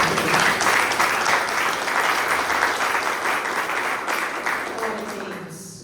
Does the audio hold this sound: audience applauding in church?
yes